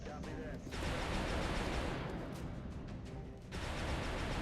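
Sustained suppressive gunfire from a turn-based tactical video game, a dense loud burst of shots running nearly continuously through the moment with a brief dip and a second surge near the end.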